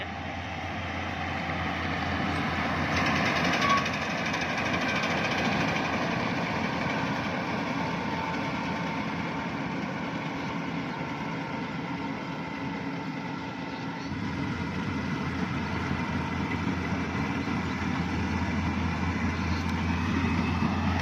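A tracked rice combine harvester, running on chains rather than tires, keeps its engine going at a steady low drone, with a continuous heavy mechanical hum that holds evenly throughout.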